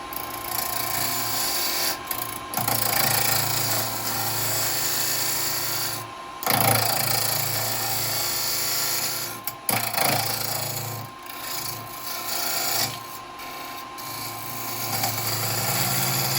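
A woodturning tool cuts wood spinning on a lathe, making a continuous rough scraping and whirring noise with brief pauses and shifts in pressure as the tool is repositioned.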